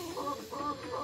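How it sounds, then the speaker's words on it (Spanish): A laying hen just released from among four layers, starting to lay, clucks steadily in a close, continuous run of throaty calls with no talk over them. "Hoy día nuestra gallinita que ustedes están viendo, que le acabamos de soltar, está rompiendo postura."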